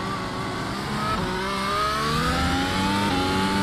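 A Mercedes F1 W13 engine in the iRacing sim screams close and loud, its pitch climbing through the revs with a quick upshift partway through, driven with early short-shifting up to third gear.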